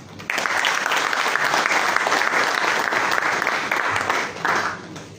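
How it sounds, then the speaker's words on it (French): Sustained applause from participants at a health ministry steering committee meeting in the Comoros, a dense clapping that fills the whole clip, eases briefly near the end, then swells again. "nous nous adressions collectivement des applaudissements pour cette belle réussite"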